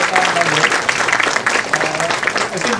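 Loud, continuous round of applause from an audience at a space weather prediction centre inauguration, dense clapping filling the short stretch with a voice faintly underneath.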